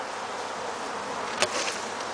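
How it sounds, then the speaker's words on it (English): Honeybees buzz around an open beehive, a close, steady hum of many wings with a brief louder pass near the middle. "So the fact there's a ton of bees"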